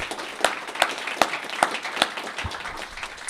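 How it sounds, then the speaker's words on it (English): A small in-person audience at a live panel event claps briefly with a few sharper individual claps standing out, moderately close, with faint murmur underneath. "We're in person, so we get to clap and thank and applaud"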